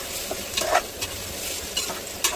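Chopped onion frying in a pot with potatoes, a soft steady sizzle punctuated by a few stirring scrapes and spoon knocks, close and fairly quiet.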